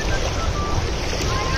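Sea waves and cool wind at Vagator beach below Chapora fort in Goa at sunset form a loud, steady roar of surf, with wind buffeting the microphone throughout.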